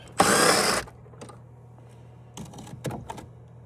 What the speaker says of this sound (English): Alright, so undo these screws here.